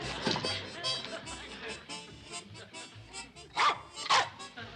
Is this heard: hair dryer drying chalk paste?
no